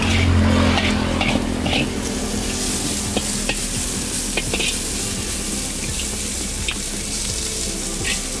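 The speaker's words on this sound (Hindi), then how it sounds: "पत्ता गोभी को अच्छे से फ्राई करेंगे।" Cabbage fries in oil at a street chow mein stall, giving a loud, continuous sizzle up close with scattered scraping stirs and a faint voice in the background.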